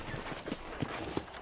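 Horse hooves clip-clop at a slow, uneven walk in the Red Dead Redemption western game, about five soft thuds over a steady ambient outdoor bed, fairly close and moderately quiet.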